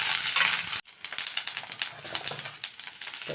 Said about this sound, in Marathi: तेलामध्ये मिक्स करून घेऊया.